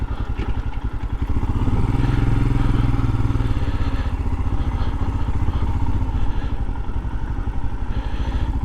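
Several motorcycles gather at a garden centre before a group ride, their engines idling and revving nearby in a steady, throbbing drone with one louder swell early on; no clear talk is heard.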